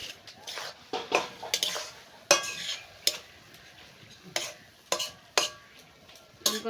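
Leafy greens fry in a pan with garlic and green chillies in a village kitchen, a faint sizzle under repeated sharp scrapes and stirring clatters from a utensil.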